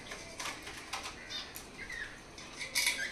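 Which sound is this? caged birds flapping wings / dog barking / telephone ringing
caged birds flapping wings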